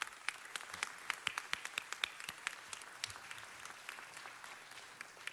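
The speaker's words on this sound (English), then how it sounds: "Let's give him a round of applause." A room of people gives a Veterans Day round of applause for a Marine sergeant, with distinct individual claps popping over a moderate, steady clapping bed that slowly tapers.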